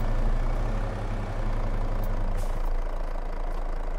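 A truck in Farming Simulator 22 idles with a loud, even low-pitched rumble that changes slightly partway through, then settles into a continuous engine drone.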